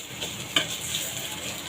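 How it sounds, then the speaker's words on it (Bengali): Cumin paste being stirred in a frying pan for a mola fish and pointed gourd dish, a soft steady sizzle with one sharp spatula scrape early on, close and fairly quiet. "জিরা বাটা একসাথে একটু নেড়ে চেড়ে দেব"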